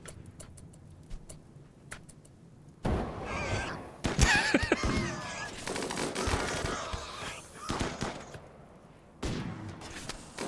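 RimWorld gunfire comes as a burst of rapid crackling shots amid dense game effects and music, with quieter ticking passages before and after, loud and busy in the middle.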